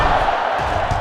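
A stadium crowd roars in NCAA Football 07 as the defense urges fans to their feet, a steady, loud wash of massed cheering and noise with no breaks.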